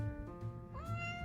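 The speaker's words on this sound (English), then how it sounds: "Sorry, I got a kitty in my lap" A cat sitting in someone's lap lets out a short, close meow with a rising tone, quiet and brief, against a calm indoor background.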